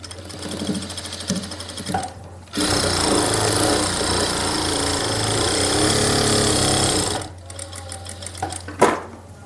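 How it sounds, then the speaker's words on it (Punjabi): An electric sewing machine stitches a pocket onto a salwar, running in one loud, fast, continuous burst of about five seconds, with quieter fabric handling and small clicks before and after. "ਸਾਈਡਾਂ ਨੂੰ ਤੁਸੀਂ ਸਲਾਈ ਕਰ ਲੈਣੀ ਹੈ"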